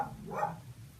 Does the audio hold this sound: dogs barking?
yes